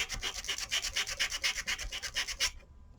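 Rapid back-and-forth rasping of a sanding block scrubbing across a paper tag, distressing it, a steady close rhythm of strokes that stops abruptly near the end.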